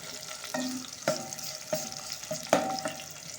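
Onions fry in hot oil in a pot for turnip curry, with a soft, steady sizzle, punctuated by several sharp clinks of a utensil stirring against the pot.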